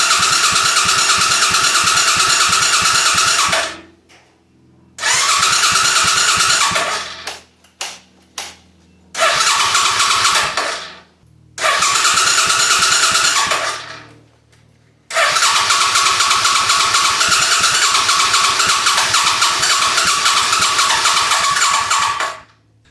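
Suzuki Intruder custom bobber motorcycle cranking and firing up: several loud bursts of engine running cut by short silent gaps and stuttering restarts, then a steady sustained run to the end, close and alone with no talk.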